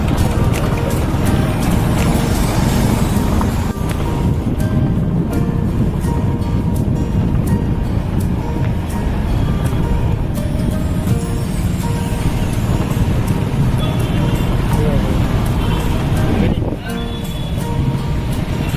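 Steady road traffic on the Mumbai–Goa highway near Bahadur Shaikh Naka in Chiplun, Konkan, a continuous dense rumble of cars and trucks passing close by throughout, with a voice talking over it.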